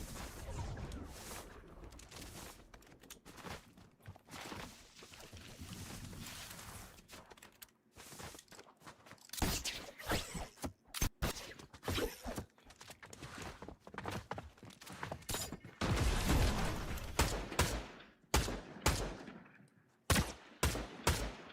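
Video-game gunfire in irregular bursts, with sharp, close single shots and rapid volleys scattered across the stretch, louder and denser toward the end, between quieter gaps.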